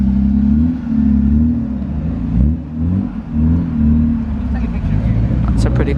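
Lotus Europa fitted with side pipes, revving at a car meet as cars leave: a steady low engine drone with rising and falling revs, close and loud throughout, with people talking over it.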